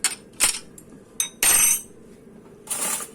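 Teaspoons are set down among dishes in a home kitchen, giving a few separate metallic clinks and rattles in short bursts with quiet pauses between them.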